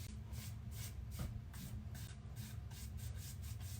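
A 2-inch chip brush paints glaze onto a surface in soft, rhythmic strokes, roughly eight evenly spaced swishes that are faint over a low background hum.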